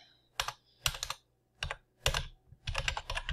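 Bursts of typing on a computer keyboard, with irregular clusters of close, crisp key clicks separated by short pauses, recorded alone with no talking.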